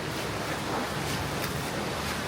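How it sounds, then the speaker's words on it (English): A waterfall rushes in a continuous broadband roar, loud and steady with no breaks, heard alone without talking. "Waterfall! I can hear it."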